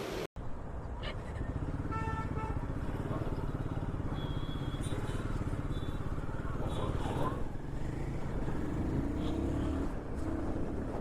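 Royal Enfield Guerrilla 450 motorcycle on a test ride, its engine droning steadily and loud throughout with road and wind noise, a few faint horn toots from passing traffic in the background.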